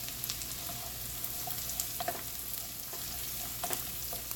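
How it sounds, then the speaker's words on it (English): A pan of shrimp scampi sauce with fresh parsley sautés with a soft, constant sizzle. Occasional light clicks of a stirring utensil come through, quiet and without talk. "Stir this. This has got to get nice and sauteed."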